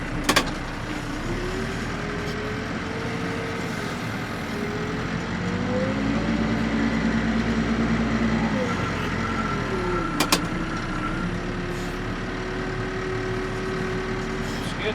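Backhoe engine working steadily while digging spot footings and moving a spoil pile, a continuous close diesel drone with shifting pitch as the machine loads, plus a couple of sharp metallic clanks.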